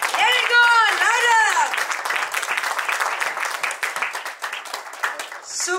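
An audience at a business seminar claps loudly and rhythmically in a dense, sustained burst, while someone speaks excitedly over the opening moments.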